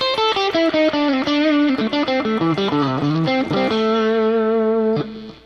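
Electric guitar chords on a 2020 Gibson Les Paul Standard with a Greeny modification, played through distortion and effects at full volume: a run of loud, driven strummed chords and notes, ending on a sustained ringing chord that fades out.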